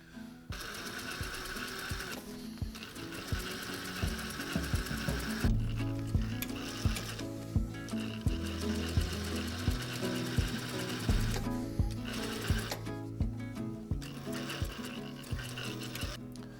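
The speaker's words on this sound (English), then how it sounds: "I'm gonna sew along the inside layer, and I'm just gonna line up my seams on top of the original baffle seams." A sewing machine stitches along the inside layer of a down jacket over the baffle seams. It runs steadily with a fast rhythmic needle beat, close and clear, pausing briefly a few times.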